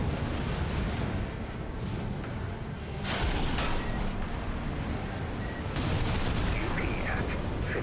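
Dense, continuous gunfire and explosive blasts from mech combat in the video game Armored Core, loud and relentless with a brief lull midway before the barrage intensifies again.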